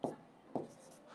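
Writing on a board during a Bengali chemistry lesson produces two short, crisp scratching strokes about half a second apart, close and fairly quiet.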